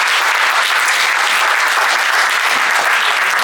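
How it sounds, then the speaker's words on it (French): Dense, steady applause from a seminar audience at a closing ceremony and awards presentation, many hands clapping together continuously at high volume, no one speaking. "J'aimerais encore vous applaudir"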